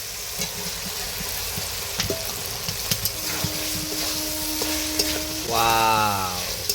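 Fried potato hechor tipped into cooked masala and frying in a pan, a close crackling sizzle with scattered stirring scrapes and clinks, ending in a brief rising hiss near the end, no voices.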